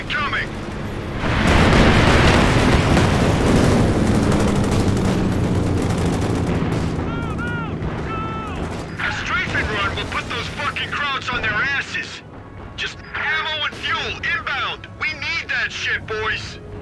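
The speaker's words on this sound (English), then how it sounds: "Two rocket runs incoming!" Rocket runs striking in Company of Heroes, Ardennes Assault at Ouren: a heavy roaring barrage of blasts and rumbling explosions building up and continuing, with gunfire and chatter mixed in toward the end.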